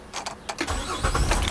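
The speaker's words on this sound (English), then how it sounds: "I'm going to turn the engine on." A 2006–2016 Chevrolet Impala Limited engine starts close by: a short burst of starter cranking catches into a running engine within about a second and a half, with faint clicks just before.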